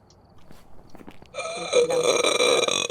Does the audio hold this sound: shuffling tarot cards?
no